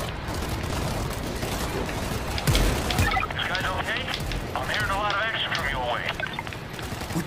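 Shotgun blasts boom out in World War Z during a New York City zombie fight, a few heavy shots mixed with scattered gunfire and chaotic game noise, while a player talks.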